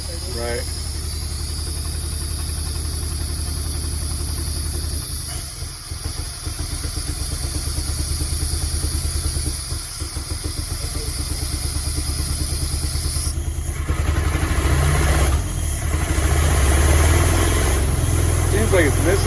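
A barn-find 1940 Mercedes engine idles roughly and steadily for the whole stretch, its uneven misfiring beat growing slightly louder toward the end, with people talking over it.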